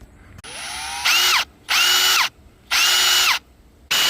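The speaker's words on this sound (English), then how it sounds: "I'll drill that." A power drill boring a hole runs in four separate loud bursts, each winding up to a steady high whine then cutting off, with brief quiet pauses between, close by.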